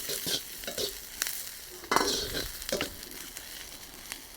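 Chopped onion sizzling in a hot pan for a chicken stir-fry, with a steady crackling fry broken by repeated scraping stirs and a few louder clatters, close and alone without talk.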